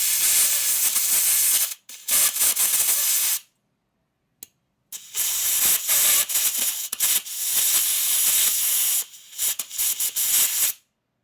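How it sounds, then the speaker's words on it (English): Compressed air blasts light machine oil out of a pressurized part from a 1988 Harley FXR motorcycle: loud, close, broadband hissing in repeated bursts separated by short silent gaps. "Got almost all the oil blown out of it though."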